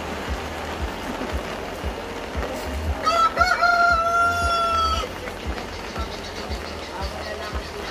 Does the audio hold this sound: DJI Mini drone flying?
no